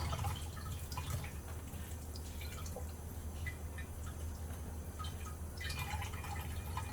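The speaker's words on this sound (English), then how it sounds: "The water drip everywhere." Steady running water with droplets splashing and dripping, continuous and close, no voices.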